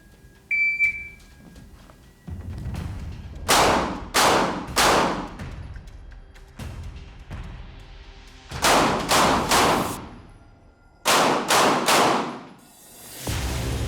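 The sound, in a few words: double action pistol shots in close quarters training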